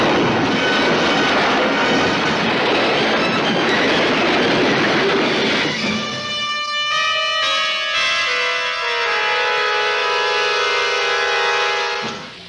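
A train runs on rails: loud broadband rumbling and clatter for about six seconds, then screeching wheel squeals and sustained tonal whines that slide downward before cutting off, with no talk.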